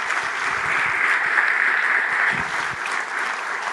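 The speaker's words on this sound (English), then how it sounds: "So huge round of applause for them." Audience applause at a fireside-chat event, a dense sustained burst of clapping from a crowd, loud and continuous with scattered individual claps audible.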